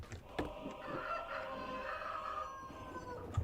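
A rooster crows in a video game, a drawn-out, fairly faint cock-a-doodle-doo over light background noise, with no one talking.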